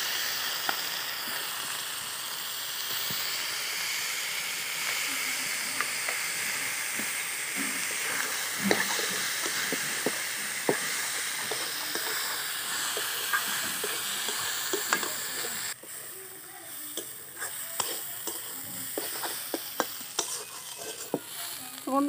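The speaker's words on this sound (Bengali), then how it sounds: "মশলার মধ্যে আমি চালটা দিয়ে ভেজে নিলাম" Soaked khasa rice frying in spices for Bengali muri ghonto with a katla fish head: a continuous close, loud hiss and sizzle with frequent sharp stirring scrapes, the sizzle dropping slightly partway through.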